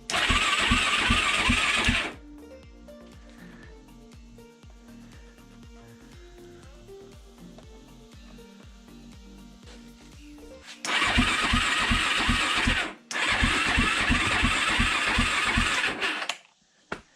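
A 2004 Arctic Cat DVX434 ATV cranks with a loud, rapid starter whir that stops, a quieter low mechanical pause follows, then two more long bursts of steady cranking, close by, with no catch into running.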